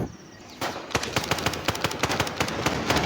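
Rapid automatic gunfire from a weapon in the GoreBox video game, a string of sharp evenly spaced shots at a moderate rate, loud and alone after a short pause at the start.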